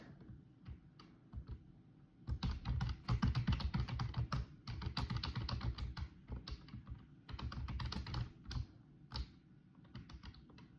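Rapid keyboard typing, bursts of clicking keys close to the microphone with short pauses between runs.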